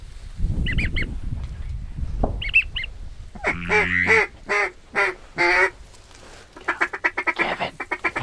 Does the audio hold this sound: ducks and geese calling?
yes